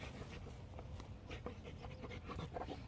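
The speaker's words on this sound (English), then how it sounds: "The dogs are super restless this morning" Restless dogs pant nearby in the morning, a quick steady huffing rhythm that runs continuously at moderate volume with faint whimpers.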